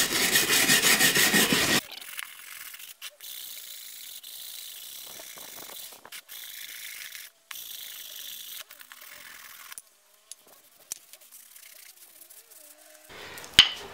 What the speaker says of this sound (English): I'm actually going to get a wire brush and scrub off some of this underseal